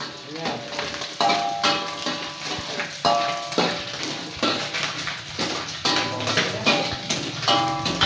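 Anchovies frying in a wok for nasi goreng, with steady sizzling broken by repeated metallic clatters of a utensil against the pan and faint voices in the background.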